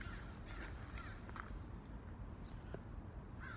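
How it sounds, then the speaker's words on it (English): Crows caw in the evening, faint and distant over a steady low background rumble, with a few scattered calls from other birds joining the chorus. "a lot of the local birds were engaged in evening chorus"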